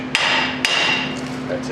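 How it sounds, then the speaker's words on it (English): Two sharp metallic hammer strikes land on the hub assembly of a 2002 Trailblazer, half a second apart and close up, over a steady hum in a garage. "and then hammer time"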